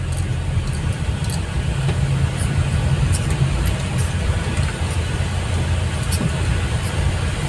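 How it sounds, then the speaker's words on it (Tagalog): Steady road traffic on Quezon Avenue at midday hums in a continuous low, dense rumble of passing cars and engines, fairly close and loud, with no break or talking. "traffic pa rin sa Quezon Avenue"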